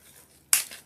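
A single crisp snip of scissors cutting through a tied end of ribbon on a fall pumpkin swag, sharp and close, fading quickly in a quiet room.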